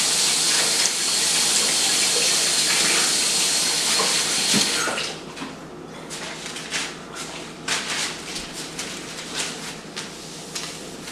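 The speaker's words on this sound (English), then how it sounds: "Wash my hands, you guys." Tap water runs loudly and steadily into a sink while hands are washed in a home kitchen, then cuts off halfway, leaving quieter splashes and handling sounds.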